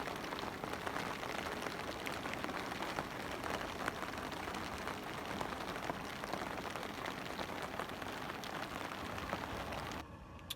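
Steady rain patters on surfaces beside a carp-fishing lake, a dense, even hiss of close drops that continues without a break until it cuts off abruptly near the end, with no voices.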